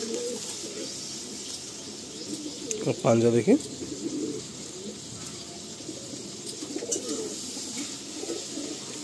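Madrasi pigeons cooing at close range, one clear burst of throaty coos standing out from low background murmur, with people talking nearby.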